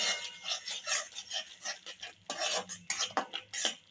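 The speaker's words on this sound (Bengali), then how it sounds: "এভাবে আমি একটু নেড়ে চেড়ে নেবো।" A utensil stirring a curry for shol fish with mango in a metal pot, repeated scraping and clinking strokes in an uneven rhythm, close and clear, with no voices.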